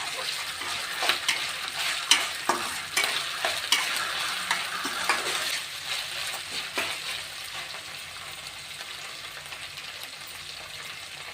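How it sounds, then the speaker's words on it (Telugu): Ginger garlic paste frying in a pan, a soft continuous sizzle with clinking spoon strokes and stirring scrapes that come regularly early on, then settle into a quieter steady hiss. "ఇందులో 1 టేబుల్ స్పూన్ అల్లం వెల్లుల్లి పేస్ట్ వేసి పచ్చివాసన పోయేంత వరకు వేయించుకోండి"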